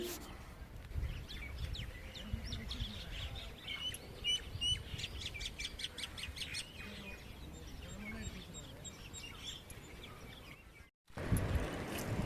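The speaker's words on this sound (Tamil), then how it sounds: "இந்த பறவைகள் சத்தம் காதுக்கு நல்லா இனிமையாக இருக்குது கேட்குறதுக்கு." Many small birds chirp and tweet continuously at moderate distance in a melon farm, a busy chorus of short repeated calls with a faint background hum.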